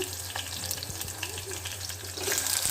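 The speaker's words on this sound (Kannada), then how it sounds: "ಹಸಿಮೆಣಸಿನ್ಕಾಯಿ ಫ್ರೈ ಆದಮೇಲೆ ಕಟ್ ಮಾಡ್ಕೊಂಡಿರ್ತಕ್ಕಂಥ ಬದನೆಕಾಯಿ ಹಾಕ್ಕೊಳ್ಳೋಣ." Chopped brinjal and green chillies fry in a pan for a chutney, a soft, continuous sizzle with occasional stirring scrapes and faint clinks, low in level and without talk.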